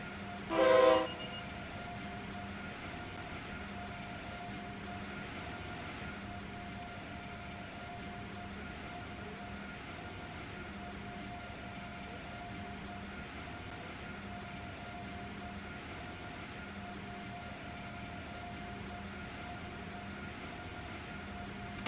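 An Amtrak Acela train in Train Sim World 6 runs slowly on the oncoming track between Stamford, Connecticut and Trenton, New Jersey, giving a steady low rumble with a rhythmic beat and a brief loud burst near the start.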